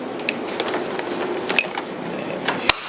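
A Dyson DC14 vacuum hose snaps back into its holder with a sharp, loud click near the end, preceded by a few lighter plastic taps and handling rattles.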